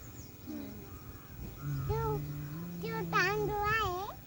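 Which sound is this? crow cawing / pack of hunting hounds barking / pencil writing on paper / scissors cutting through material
crow cawing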